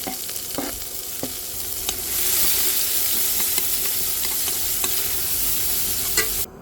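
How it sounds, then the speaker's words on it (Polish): Onion fries in a pan on a non-induction stove, a close, even sizzle that swells after a couple of seconds, broken by a few sharp stirring clicks and scrapes. "Najpierw podsmażymy troszeczkę cebulę na słomkowo rumiano."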